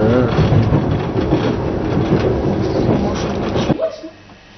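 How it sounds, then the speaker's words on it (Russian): Metro train arriving at a platform, a loud close rumble with rolling clatter that fills most of the moment before quickly dying away as the train slows and stops. "Сейчас поезд подойдет"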